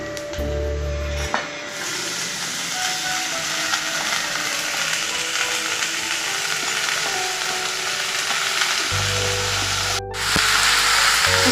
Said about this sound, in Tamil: கோவக்காய் நல்லா எண்ணெயில் நல்லா வதங்கட்டுங்க.